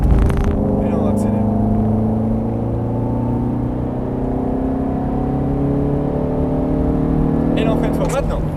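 A car engine revs up steadily on the Mettet circuit, its pitch climbing over several seconds as it accelerates, loud and close, with a brief higher whine near the start and end.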